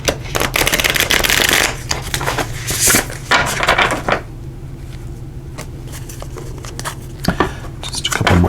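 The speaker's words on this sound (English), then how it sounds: "And let's just shuffle these up here." A deck of tarot cards shuffled by hand during a reading, giving close, continuous riffling and slapping bursts with short pauses between handfuls, no talk over it.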